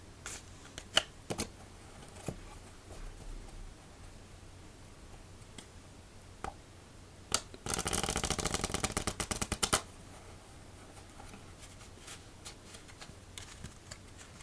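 A deck of Bee Metalluxe silver playing cards is riffle-shuffled close up, with scattered ticks and taps, then a dense, rapid flutter of cards that lasts about two seconds before it settles back to quiet handling.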